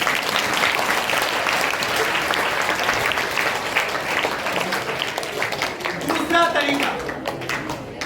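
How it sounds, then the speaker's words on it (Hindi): A seminar audience claps for a participant, steady, full applause that runs the whole stretch, with some voices and scattered shouts mixed in toward the end. "तुम अपने लिए तालियां बजाइए"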